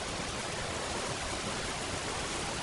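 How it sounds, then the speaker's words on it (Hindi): Heavy rain falls in a forest as a steady, even hiss of downpour with no distinct drops or other sounds. "देखते ही देखते जोरदार बारिश भी शुरू हो गई।"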